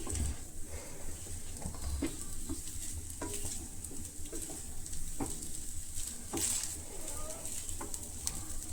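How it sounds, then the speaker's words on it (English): Egg fried rice with green corn sizzles and crackles in a pan over high heat, with steady frying hiss and occasional stirring scrapes throughout. "amp up the heat a bit and fry it properly"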